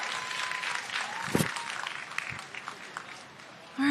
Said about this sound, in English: Another round of applause for Jerry